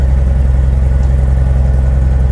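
A light airplane engine idles after a cold start with a steady, deep, throbbing rumble. It is loud and close and heard alone, with no voices.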